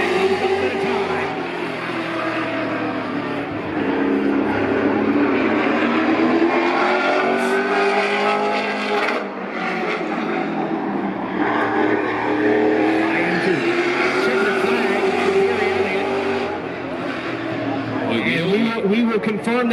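Race cars running hot laps at Riverside Speedway during the IWK 250, their engine roar a continuous loud drone throughout, with a commentator talking over the top nearly the whole time.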